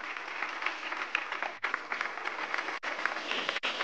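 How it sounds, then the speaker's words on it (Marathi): Applause from the crowd at a Marathi television show launch event as a veena is unveiled, a continuous, fairly faint patter of many hands with a few brief dips, heard from some distance. "जोरदार टाळ्या."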